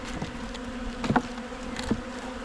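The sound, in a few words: honey bees buzzing in hive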